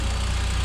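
Mitsubishi Lancer Evolution engine idling with the hood open, a steady low pulsing rumble heard close up for a brief moment.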